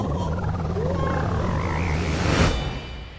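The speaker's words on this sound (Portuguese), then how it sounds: "É um sapo de bigode." A mustached frog in the video game Super Mario Odyssey gives a warbling croak over a steady game background hum, followed by a brief noisy burst, with no talking.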